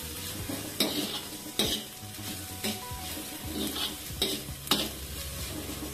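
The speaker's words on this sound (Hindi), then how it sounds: "और अब हम इसमें डालेंगे अदरक लहसुन का पेस्ट 1/2 चम्मच और 1 मिनट के लिए और भुनेंगे।" Onion with ginger-garlic paste fries in a pan for a mooli and methi bhaji while a spoon stirs it, a constant close sizzle broken by several sharp scrapes and clinks of the spoon against the pan, with no talking.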